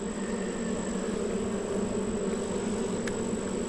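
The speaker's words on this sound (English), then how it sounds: "Maybe give it a little smoke to get the bees kind of away from the comb." Honey bees swarm around the comb during a hive inspection, making a steady, low, droning buzz that holds evenly throughout, close and continuous with no talking.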